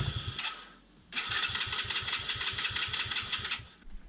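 Tao Tao Chinese quad engine being cranked on a dead battery with fuel not reaching the carburetor, a steady rapid chugging of the starter lasting a few seconds before stopping, loud and close.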